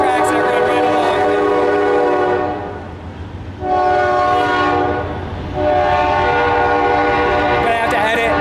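A train rolls past on nearby tracks, loud and close throughout with a sustained horn blaring over the rumble of the cars, briefly dipping before the horn returns.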